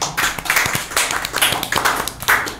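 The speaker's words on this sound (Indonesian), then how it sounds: "Tepuk tangan dong, guys." Scattered clapping from a small studio audience at an Indonesian podcast, a handful of uneven, close claps with no talk.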